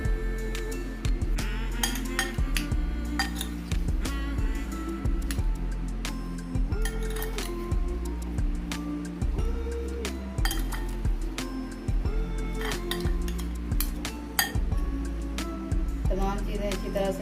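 A spoon stirs apple potato salad dressed with mayonnaise in a dish, making a steady stream of light clinks and scrapes against the bowl with a low hum beneath.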